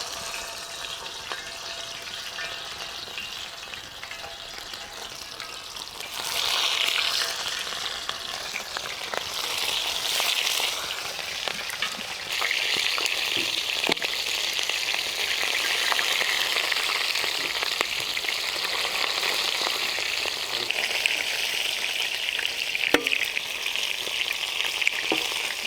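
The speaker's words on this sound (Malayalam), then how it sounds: "ചിക്കൻ ഓരോ പീസായിട്ട് നമുക്ക് വറുത്തെടുക്കാം." Chicken pieces fry in a mix of ghee and oil for a traditional Arabian kabsa, a steady close sizzle that swells louder partway through, with occasional stirring clicks and bursts of spatter.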